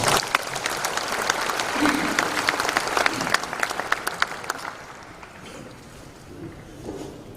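Welcoming applause from a large audience at the Korea National Prayer Breakfast, dense steady clapping from a crowd that thins and fades out over the last few seconds.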